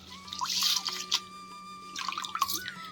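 Rice being washed by hand in water while making arishelu, with soft swishing, dripping and splashing in bursts, close by and fairly quiet, along with a faint steady hum.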